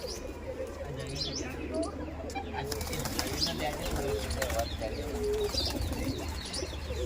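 Pigeons coo close by, wings flapping in bursts, with other birds chirping faintly and a low steady background hum.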